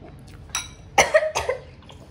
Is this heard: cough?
yes